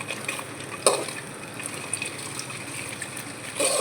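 Paneer fries in a pan with a soft, steady sizzle and hiss, quiet throughout, with a couple of brief louder spits near the start and end and no talking.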